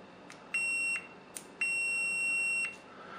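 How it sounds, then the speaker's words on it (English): Two steady electronic tones from a multimeter's continuity buzzer, a short one then a longer one of about a second, with a brief click between, close and clear, testing a bimetal frost thermostat. "I'm going to put my meter on continuity test with the buzzer"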